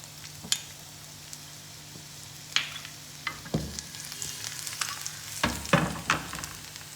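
Whole dried red chilies and ginger strips hit hot oil for a daal mash, giving a steady close sizzle with a few sharp crackles and stirring clinks scattered through.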